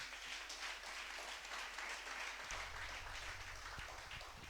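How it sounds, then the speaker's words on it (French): A church congregation applauds and acclaims Jesus during a sermon, a steady wash of fairly distant clapping with a low hum underneath, continuous throughout. "donne acclamation à Jésus"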